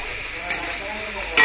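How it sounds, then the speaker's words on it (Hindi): Mathri frying in oil over a low gas flame gives a soft, even sizzle, broken by two brief brighter bursts of bubbling. "तो इधर ये फ्राई हो रही है मट्ठी"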